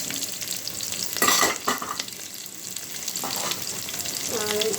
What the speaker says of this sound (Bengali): পেঁয়াজটা আমি হালকা বাদামি করে নেব।